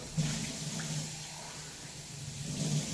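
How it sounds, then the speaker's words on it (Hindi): A kitchen tap runs during cleaning, a steady splashing stream close by with a faint low hum beneath it, continuous for about three seconds with no voices. "पूरी पानी मारना है सबको, थोड़ा पानी का कम कर देती हूँ मैं, और पानी के नल को भी थोड़ा सा क्लीन करना है।"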